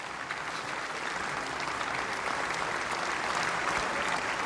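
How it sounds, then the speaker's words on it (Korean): Lawmakers in the South Korean National Assembly give Trump a standing ovation after his speech, dense sustained applause filling the hall, steady and loud throughout. "지금 의원들이 기립박수를 하고 있는 와중에"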